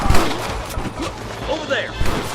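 Gunfire from a Red Dead Redemption shootout at a cabin with hostages, several sharp shots in quick succession over a busy battle mix, with shouted voices partly audible underneath.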